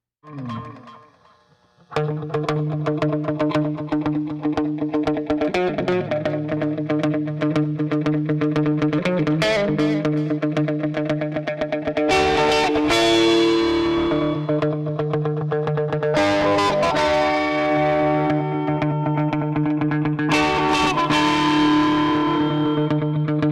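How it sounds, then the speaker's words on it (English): A distorted electric guitar, distortion pedal placed before the other effects, rings out in sustained chords, thickened by shimmering chorus-like effects, loud and continuous for over twenty seconds. "here's the same thing with the distortion in front of these effects in the so-called correct order"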